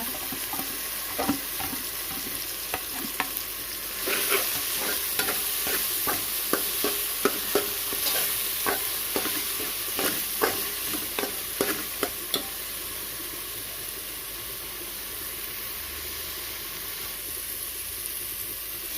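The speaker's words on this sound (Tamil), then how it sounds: "இப்போ மசாலா நல்லா வதங்கிடுச்சு." Biryani masala paste with mint sautés in a pan with a constant sizzle, while a spoon scrapes and taps through it in repeated close strokes.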